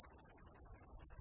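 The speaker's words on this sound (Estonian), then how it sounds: "ritsikad laulavad hästi kõvasti." Crickets chirp loudly outdoors on a summer day, a continuous high, shrill pulsing trill that holds steady throughout with no voices over it.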